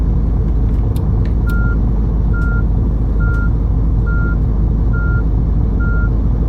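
Coach reversing alarm in Fernbus Coach Simulator on a Graz to Vienna run: six evenly paced high beeps repeating over a loud, constant diesel engine drone.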